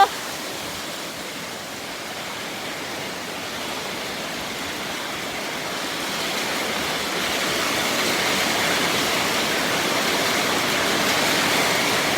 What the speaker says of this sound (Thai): ฝนตกแล้วนะคะ